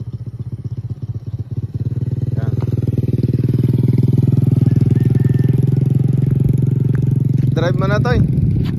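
A motorcycle engine idles nearby with a steady, chugging rumble that settles in after a few uneven firings, and a voice speaks briefly near the end.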